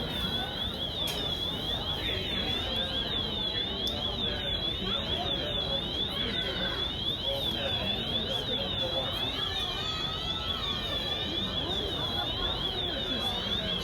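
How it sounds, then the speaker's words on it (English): A door alarm sounds at Walt Disney World, a steady warbling electronic tone that sweeps up and down continuously, with crowd chatter and ambient noise from people nearby. "Some type of door alarm is going off."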